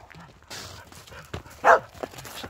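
Herding dogs barking once or twice as they drive livestock out of a corral, a short sharp bark standing out over faint background noise and movement.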